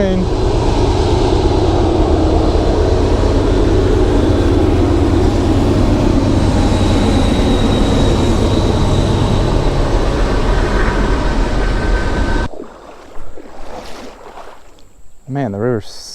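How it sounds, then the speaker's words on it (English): A train passes near a shallow river by an abandoned bridge, a loud, sustained roar of wheels and rumble that cuts off abruptly, leaving quieter open-air sounds and faint movement. "Here comes a train."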